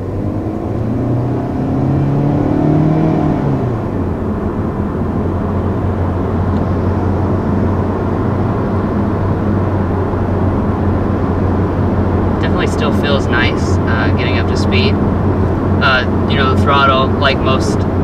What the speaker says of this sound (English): Now we put it into sport mode, so we'll see if it responds any differently here.